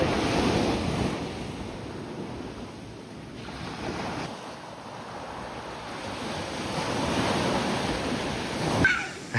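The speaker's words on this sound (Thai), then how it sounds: "เดี๋ยวน้ำทะเลก็มาหอบไปอีก" Sea waves washing up a beach at Bang Niang in Khao Lak, Phang Nga, heard as a steady surf wash with gusting wind noise on the microphone and no talk.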